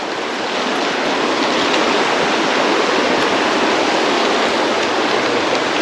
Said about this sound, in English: now the trail just kind of follows here on the side of the creek